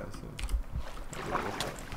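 Boat gliding across water in Minecraft, soft splashing and creaking, moderately quiet, with a faint voice briefly present.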